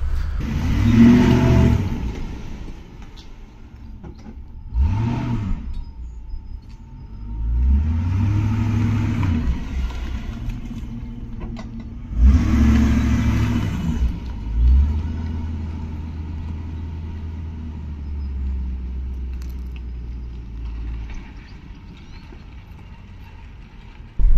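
Lincoln Town Car limousine with a mechanical fault, its engine revving and rumbling loud and close as it maneuvers back and forth, the revs repeatedly rising and falling with a steady low idle between bursts.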